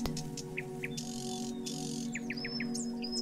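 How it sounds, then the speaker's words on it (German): Small birds chirp and tweet in short bright bursts over a steady buzzing insect hum in a calm outdoor field, fairly faint and moderately distant. "Das Rascheln der Blätter und das Zwitschern der Vögel"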